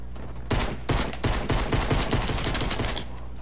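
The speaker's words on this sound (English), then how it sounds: "Okay, that was some really bad shots by me" Rapid bursts of pistol gunshots in a Fortnite match, a dense run of sharp, loud cracks starting half a second in and continuing almost without pause, with no talking over them.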